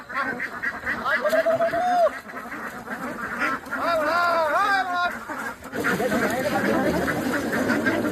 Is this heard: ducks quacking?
yes